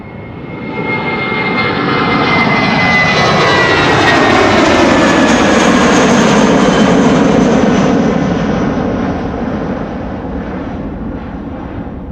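A China Airlines Boeing 777 jet departs from the Polderbaan runway at Schiphol, a loud sustained engine roar that swells within the first second, holds strong with a shifting pitch, then slowly fades as it climbs away.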